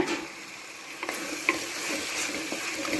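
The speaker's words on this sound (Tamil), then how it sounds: "தக்காளி ஆட் பண்ணி இது நல்லா வதக்கிக்கிங்க" Onions and tomatoes for a chicken gravy base sauté in a pan. A faint, steady sizzle runs throughout with a few light stirring clicks, and no talk.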